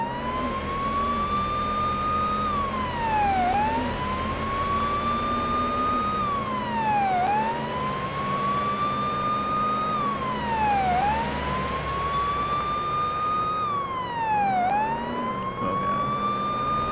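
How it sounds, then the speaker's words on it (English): Police car siren from the Police Simulator Patrol Officer video game, a loud continuous wail rising and falling in a steady cycle about every four seconds, held throughout over low vehicle engine rumble. "I want to keep my sirens on so they pull over"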